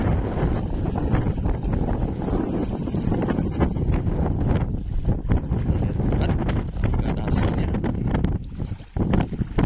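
Strong wind gusts over a small island by the sea, with big waves, roaring and buffeting the microphone loudly and continuously throughout, with no one speaking.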